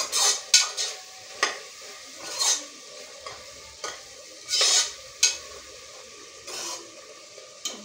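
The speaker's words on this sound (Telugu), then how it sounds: "ఇదిగోండి వేగుతూ ఉంది." A spoon scrapes and stirs egg biryani masala in a pan, with soft frying sizzle under irregular clinks and strokes, close and alone without talk.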